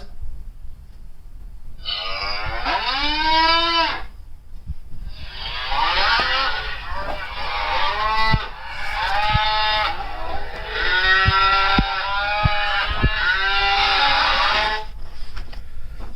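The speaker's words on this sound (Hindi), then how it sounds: "दोस्तों गाय की आवाज" A digitized cow moo plays from a small talking device, loud and close, with a rising, wavering lowing call followed by a longer series of moos that runs for several seconds with no talk over it.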